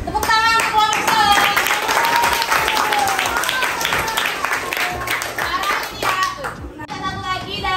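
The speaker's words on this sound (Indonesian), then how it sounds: "Tepuk tangan untuk kelompok sawo." Lively applause and clapping from schoolchildren in a sixth-grade science class in Medan, loud and close, mixed with children's chatter and a teacher's voice.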